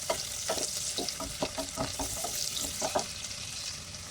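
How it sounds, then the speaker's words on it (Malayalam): Sliced onion sautéing with cumin, bay leaf, cloves and cinnamon for a dhal kichadi, giving a steady close sizzle with soft, regular scraping stir strokes and no voices. "കട്ട് ചെയ്ത് വെച്ച സവാള ചേർത്ത് കൊടുത്ത് 2 മിനിറ്റ് ഒന്ന് വഴറ്റിയെടുക്കാം"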